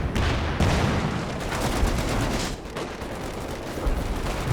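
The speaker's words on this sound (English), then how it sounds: "A bit of artillery coming down." Artillery barrages and gunfire in the Company of Heroes 2 war strategy game, a dense continuous rumble of overlapping blasts and booming impacts with sharp bursts throughout, loud and steady.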